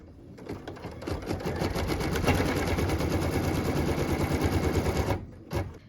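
An embroidery machine stitches a tack down line on a hoop of quilt fabric, a steady rapid mechanical chatter that runs continuously for about five seconds before stopping, followed by a brief clunk.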